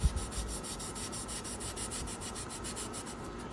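Quiet, rhythmic back-and-forth sanding strokes on a plastic 1950 Ford Convertible model car body, close and even, continuing steadily throughout without voices.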